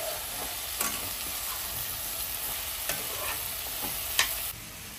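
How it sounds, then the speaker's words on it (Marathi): Carrots, beans and potatoes frying in a pan for veg masala pulao, with a steady close sizzle broken by a few scraping stirring strokes and no voices. "हे सगळं आपण आता व्हेजीज टाकल्यावर ह्याला मस्त मिक्स करायचंय."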